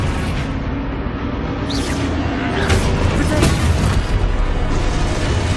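Depulso spell blasts in Hogwarts Legacy, rapid booming bursts and crackling impacts layered over dense combat rumble, several sharp hits piling up in the second half with voices casting spells throughout.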